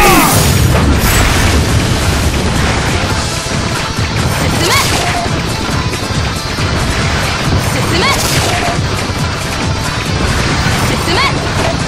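Cannon fire and explosions in the Sengoku Taisen arcade game, a dense barrage of heavy booms and crashes with repeated impacts throughout, mixed with game voices calling out.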